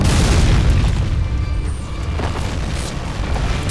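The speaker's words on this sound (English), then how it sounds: "he's gonna punch the building!" A demon's fist slams into a building in DMC: Devil May Cry, a loud, deep boom with crashing rumble that decays over a few seconds.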